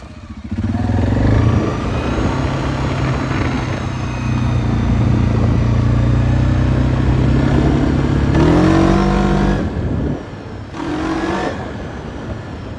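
A 2023 Suzuki King Quad 750 ATV fitted with 18-gram clutch rollers accelerates nearby, its engine holding a loud, steady drone with a rising rev near the end, then briefly dropping off and surging again.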